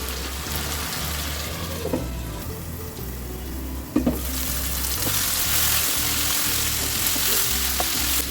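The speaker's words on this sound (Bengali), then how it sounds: "কষানোর মাঝে মাঝে একটু এভাবে নেড়ে দেব।" Chicken and chunks of raw papaya fry and sizzle in a pan for a light chicken curry while a spoon stirs them, with a steady close hiss and a few scraping knocks against the pan.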